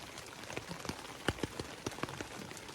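Rain falling outside a woodland shelter, with scattered drops tapping irregularly on a nearby surface over a soft constant hiss, a few louder splats standing out.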